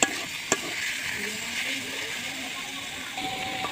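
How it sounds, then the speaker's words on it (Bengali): Leafy greens frying in a little oil, a close, continuous sizzle with a couple of sharp utensil knocks against the pan and no voices. "যে তেল দিছিল সেই তেল দিয়ে শাকগুলো ভেজে নিচ্ছি।"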